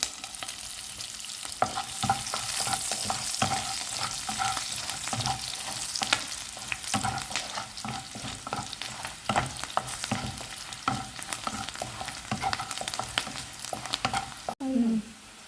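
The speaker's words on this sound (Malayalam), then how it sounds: "ഇനി ഇതിലേക്ക് നമുക്ക് വെളുത്തുള്ളി ഇട്ട് കൊടുക്കാം അതോടൊപ്പം ഇഞ്ചിയും ഇട്ട് കൊടുക്കാം" Garlic and ginger fry in oil in a pan for a fish molee, a steady close sizzle with frequent stirring scrapes throughout, ending in a brief clatter.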